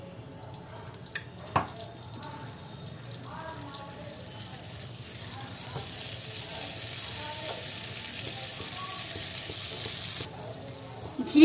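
Ghee and butter heat in a pan, giving a soft, steady sizzle that builds gradually with faint crackles, close by, under occasional quiet voice sounds.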